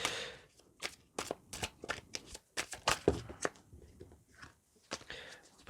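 Tarot cards from a Heaven and Hell deck are shuffled in a run of sharp, rapid riffling bursts, each lasting a fraction of a second, close and fairly quiet, with short pauses and no talking.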